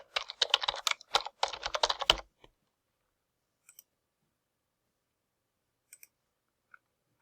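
Quick bursts of typing on a computer keyboard to log in, dense clicking for about two seconds, then near silence broken by a few isolated soft clicks.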